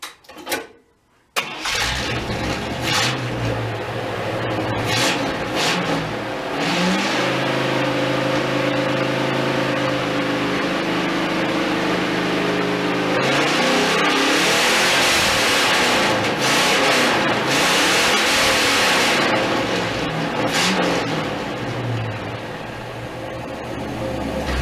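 A truck with a bigger dual exhaust on 3-inch pipes starts up with a sharp crank, then runs loud and close with a deep rumbling idle and several rising and falling revs.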